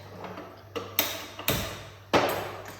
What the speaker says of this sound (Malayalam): ഗ്യാസ് ഒന്ന് കത്തിക്കട്ടെ.